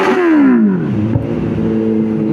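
A Kawasaki Z900 motorcycle engine revs hard and loud up close, then the pitch falls away smoothly as the throttle drops back, a short single burst.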